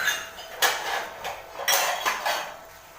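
Red chili with salt being roasted in a cooking pot for chicken pulao, stirred with a metal spoon: about five scraping strokes of moderate loudness against the pot, with a low hiss between them.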